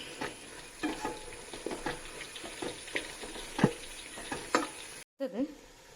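Food being stirred and mixed in a cooking pan, with scattered scraping clicks and taps of a spoon over a soft sizzle, fairly quiet and close.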